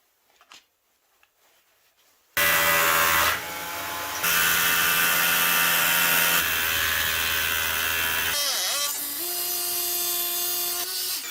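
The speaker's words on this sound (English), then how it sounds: "the next stage is going to be drill the holes for the screws" Power drill boring holes for 2 3/4-inch, 3/16 Tapcon anchor screws on a workbench build, a loud close whine starting after a quiet lead-in, running for several seconds with pitch changes and short dips.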